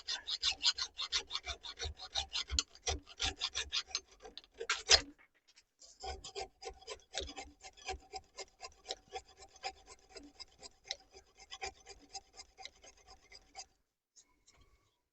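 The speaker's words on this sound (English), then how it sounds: "Did have a wee bit of sandpaper here, I'll just give that a wee rub." Sandpaper rubs along a wooden hammer handle in quick repeated back-and-forth strokes, close and fairly quiet, pausing briefly and then continuing in a lighter rhythm.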